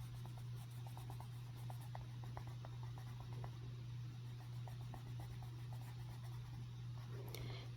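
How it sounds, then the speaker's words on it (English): A Derwent Lightfast colored pencil moves across paper in soft, dry, close scratching strokes, faint and steady against a low background hum, with no talking. "This is a dry feeling pencil. You can hear it."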